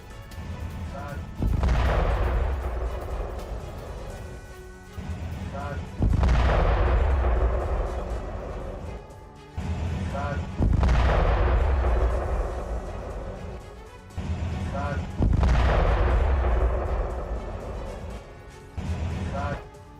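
A bombing strike on a Hezbollah position in southern Lebanon comes through as four heavy, booming blasts at regular intervals, each swelling loud and then rumbling away over a steady low background.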